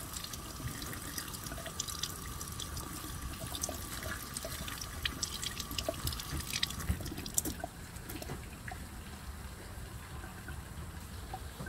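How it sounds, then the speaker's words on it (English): Mint sprigs washed in a sink of water: running and splashing water with small drips and light swishing, fairly quiet and close, with no talking. "So let's go ahead and wash it real quick. Just toss it in the water."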